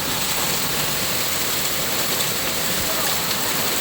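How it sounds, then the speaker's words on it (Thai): Hail falling during a sudden storm, a dense steady hiss of countless small impacts on surfaces, close and loud throughout without pause. "ลูกเห็บตก"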